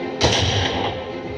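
A deep boom with rumbling thuds stands as a bomb and gunfire effect in a 3D light and sound show at Victoria Memorial Hall, Kolkata, loud and close, then settling into a sustained roar.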